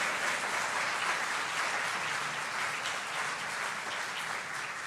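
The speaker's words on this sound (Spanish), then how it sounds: "Denle una ofrenda de palmas al Señor." A church congregation gives an offering of palms to the Lord, sustained dense applause from many hands, steady and fairly loud throughout, with no clear speech over it.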